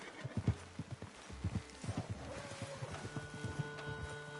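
Video game sound from Red Dead Redemption 2: hooves clip-clop in a steady trot, strong at first and growing fainter as the horse moves off, with a soft tonal hum in the background.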